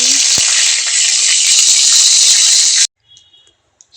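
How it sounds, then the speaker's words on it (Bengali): Dry red chillies, cardamom, cinnamon and bay leaves hit hot oil for a Bengali rohu fish curry, a loud, dense hiss that holds steady for nearly three seconds, then cuts off abruptly to near silence. "আমি এখন শুকনো লঙ্কা ফোড়নে দিয়ে দিচ্ছি গরম মশলাটাও দিয়ে দিচ্ছি এলাচ আর দারচিনি তেজপাতাও দিয়ে দিচ্ছি"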